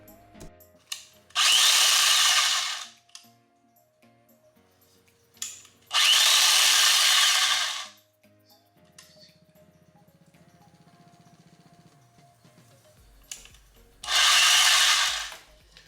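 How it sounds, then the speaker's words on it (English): A speed-adjustable tufting gun whirs in three loud bursts of about two seconds each, separated by quieter gaps with a faint low mechanical hum, the pace varying as the trigger is pressed. "holding it completely down to completely run the gun, or slightly pressing it to make that gun crawl"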